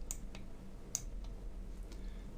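Two crisp computer mouse clicks, the first near the start and a sharper one just before the midpoint, land close and fairly quiet over low room hum, with a few fainter ticks scattered after.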